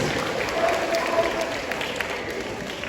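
Audience applause at a live sea lion show at Knowsley Safari, a steady wash of distant clapping from a crowd, moderate and continuous, with faint outdoor murmur.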